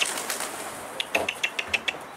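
A pigeon flaps its wings in a quick run of about seven sharp, evenly spaced beats, near and distinct against quiet outdoor background.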